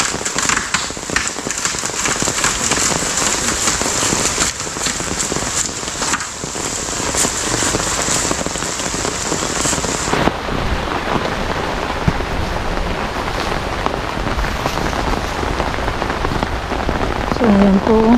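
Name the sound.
heavy rain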